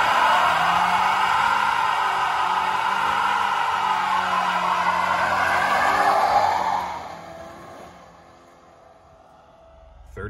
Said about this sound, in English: and it passes the burnout test